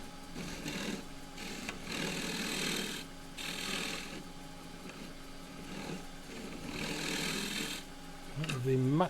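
A woodturning tool cuts an ironbark pot made from sawmill waste on a lathe, giving a steady rasping, scraping drone that swells and eases as the tool sweeps around, with a brief rising tone near the end.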